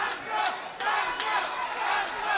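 Boxing crowd at a German fight night cheering and shouting for the red-corner boxer, a loud continuous roar of many voices with rising swells, no single speaker standing out.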